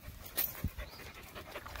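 A Dutch Shepherd service dog pants quietly and close by, a soft, irregular breathy rhythm with a brief louder huff partway through.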